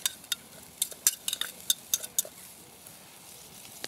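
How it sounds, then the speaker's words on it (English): Onions roughly frying in a pan while cooking rabbit outdoors at night, heard as a soft sizzle under a cluster of sharp utensil clicks and scrapes in the first half, then quieter low frying noise. "I'm just going to roughly fry the onions."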